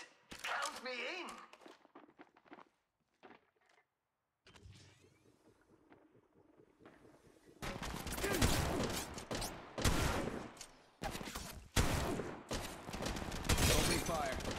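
Gunfire in the mobile shooter game Apex Legends Mobile, loud dense bursts of shots arriving in the second half after a quieter stretch of scattered game effects, with brief gaps between volleys.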